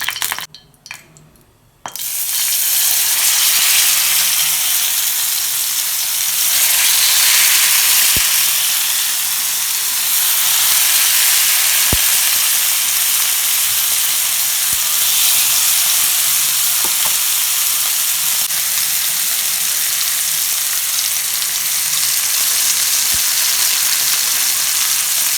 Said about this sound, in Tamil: தேங்காய் எண்ணெய் ஊற்றி வறுக்கிறேன்.